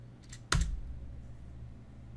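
A single sharp keystroke on a computer keyboard, one crisp click in a quiet room over a low electrical hum.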